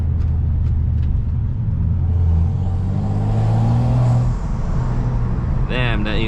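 A big turbo BMW 440i accelerates in a street pull, a loud rising engine and intake drone heard from inside the car, easing off near the end as a brief chirp sounds.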